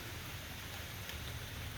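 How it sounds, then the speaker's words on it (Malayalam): Steady, soft hiss of rain falling without pause, a faint even wash with no voices. "മഴയുണ്ട് രാവിലെ തൊട്ട് മഴയാണ്"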